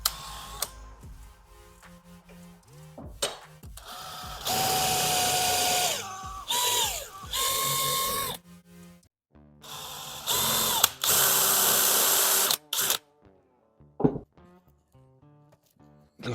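A power drill bores out the rivets on a 2004 Honda CR250 motorcycle exhaust, running in several loud bursts of whirring with short pauses between them, close up and with no talk.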